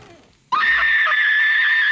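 Woman screaming in the horror film The Ring, a sudden piercing sustained shriek bursting in after a brief quiet moment and holding loud to the end.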